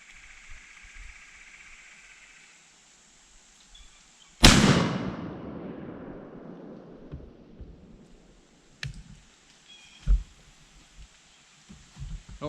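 A single loud Mossberg SA-28 shotgun blast at an outdoor range, sharp onset with a long decaying rumble and echo, followed by faint handling clicks and small knocks.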